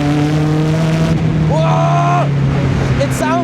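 Sports car engine revving hard while driving on the road, loud and close, with rising and falling harmonic tones as gears are matched, heard under a voice speaking.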